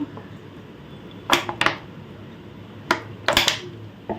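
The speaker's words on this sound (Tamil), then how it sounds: "கடாய் அடுப்பில் வச்சு எண்ணெய் ஊற்றிக்குவோம்" A kadai being set on a stove, heard as a few sharp metallic knocks and clanks in two short clusters against a quiet room, with no talking.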